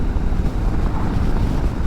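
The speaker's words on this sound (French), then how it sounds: "j'ai tout le vent dans la gueule" Wind buffeting the microphone while riding a Suzuki V-Strom 650 XT motorcycle, a steady, loud low rumble of gusting air that continues unbroken with no voices.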